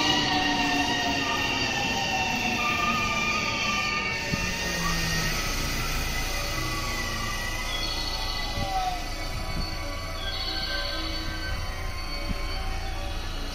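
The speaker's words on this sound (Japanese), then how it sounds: "下り方面の新快速列車がやってきます。" A down Special Rapid train pulling into platform 2 at Nishi-Akashi station, its wheels squealing and rails rumbling as it arrives, with drawn-out tonal whines over steady running noise and no voices.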